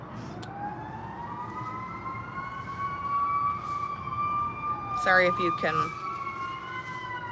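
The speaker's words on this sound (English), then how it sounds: "we're gonna have some sirens" Emergency vehicle sirens wail and sweep as they pass outside, rising and falling over steady traffic rumble while a person speaks briefly nearby.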